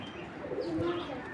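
A pair of Afsan grizzle pigeons coos softly in a short, faint burst, with a low throaty call rising briefly near the end.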